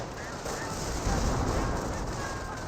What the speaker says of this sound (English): Infantry 42 firing away, suppressing now the rifle squad.